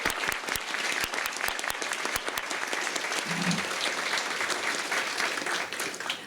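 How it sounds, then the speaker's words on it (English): Audience applause at a Special Olympics luncheon in Lincoln, dense even clapping from a large room with sharp individual claps standing out, sustained throughout without talk. "Maybe a round of applause."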